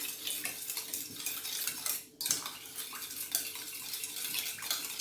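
Six tablespoons of tomato ketchup are mixed into homemade sweet and sour sauce, heard as close, continuous clinking and scraping of a utensil against a bowl with a short pause midway.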